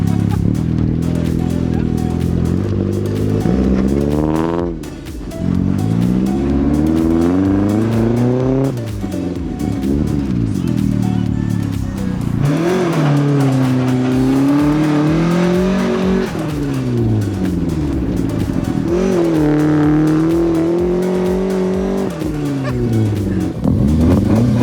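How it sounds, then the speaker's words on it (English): A car fitted with motorcycle wheels spins donuts in a parking lot, its engine revving loudly and continuously with rising and falling pitch sweeps and tire noise throughout, close and sustained. "Can I do a donut?"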